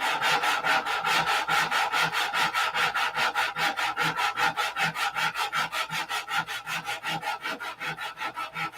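Hand sanding on wood in a hangar workshop: a long run of rapid, even back-and-forth strokes, each a rough scratchy rasp, loud and close with a steady rhythm and no talk.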